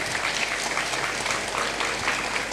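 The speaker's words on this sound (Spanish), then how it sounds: "Si usted puede aplaudir, aplauda" A church congregation at an evangelical preaching event breaks into applause, dense steady clapping throughout, moderately loud and even.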